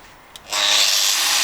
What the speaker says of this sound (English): now I'm taking the angle grinder with this